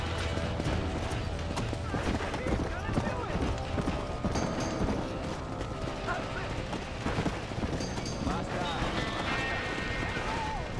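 Horse hooves gallop in Red Dead Redemption, a fast, steady clip-clop running throughout with occasional neighs and game effects, under someone talking.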